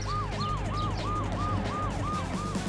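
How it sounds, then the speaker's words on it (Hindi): A cartoon ambulance siren wails in a steady, repeating rising-and-falling pattern, loud and close, with a low rumble beneath and no voices. "एम्बुलेंस जख्मी सूजी को ले गई"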